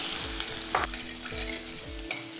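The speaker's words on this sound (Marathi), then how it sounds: "थोडंसं हिंग हळद परतून घेतलं" Asafoetida, turmeric and a ground spice paste sauté in a hot pan, giving a steady close sizzle broken by regular scraping strokes of a spoon, with no voices.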